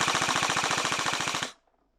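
Cyma AK74 SU tactical airsoft rifle firing on full automatic, a rapid evenly spaced burst of about twenty close, crisp shots lasting a second and a half before stopping abruptly into silence.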